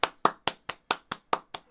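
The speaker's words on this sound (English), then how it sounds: "Let's give it a round of applause for Erica, everybody, in the building." Eight crisp hand claps in a steady, quick rhythm, close and clear, with no voices.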